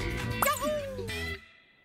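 A single short dog bark or yip, close by, followed by a brief whine, over a background of other sound.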